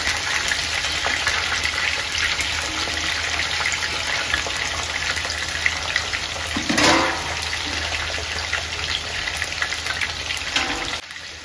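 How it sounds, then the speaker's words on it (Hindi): Potatoes frying in oil for an aloo-baingan sabji give a loud, dense, steady hiss throughout, with a brief stirring swell partway, and no speech. "अब हम इसमें आलू फ्राई करने डाल देंगे, आलू को भी हम अच्छी तरह से फ्राई करेंगे।"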